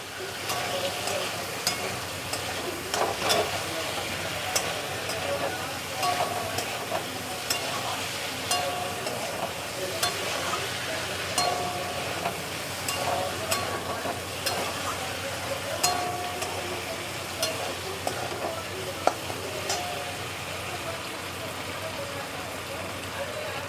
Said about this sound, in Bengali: চলো আলুর দমটা এখন কষাই